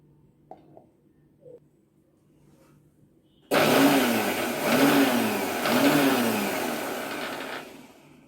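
A kitchen mixer grinder blends ghee with water. After a few quiet knocks, its motor starts abruptly with a loud, steady whirring roar that swells slightly in waves and runs to the end.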